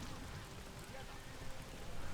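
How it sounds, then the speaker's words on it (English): Steady rain falls in a 2v2 strategy video game match, a continuous even hiss of drops that stays level throughout the short stretch. "Rain is active still."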